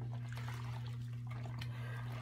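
Water trickles and splashes while soap is rinsed off an acrylic painting in a garage, a soft, uneven wash of running liquid over a steady low hum, faint and continuous with no talking.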